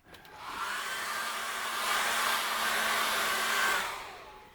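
A hair dryer blows steadily on wet acrylic paint, a loud continuous whooshing roar with a low motor hum that switches on, holds for about four seconds, then cuts off.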